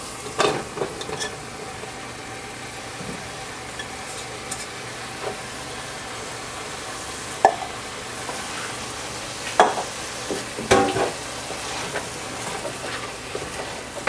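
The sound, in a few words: onions and mushrooms cooking in a pot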